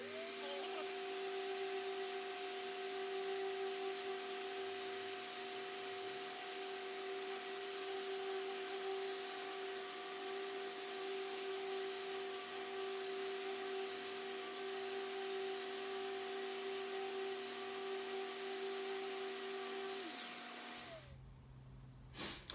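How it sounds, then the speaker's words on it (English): A power sander runs steadily over an epoxy resin river in a wooden serving tray, a continuous whining hum with a steady tone, close and moderately loud, then it winds down and stops near the end. "turn on my sander"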